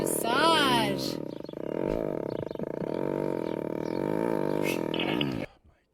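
A cat purrs loudly and close, a continuous low rumbling vibration with a raspy, roar-like edge, held for several seconds before cutting off.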